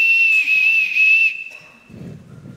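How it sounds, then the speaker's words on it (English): A loud, steady whistle is blown in a house to summon the household, a single sustained shrill tone lasting over a second, followed by faint footsteps or movement. "Everyone in this house answers to a whistle."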